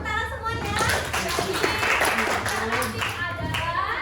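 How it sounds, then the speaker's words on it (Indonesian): An audience at an Indonesian school outreach session claps hands in a steady burst of applause, with children's voices and a speaker talking over it. "Oke, boleh tepuk tangan semuanya."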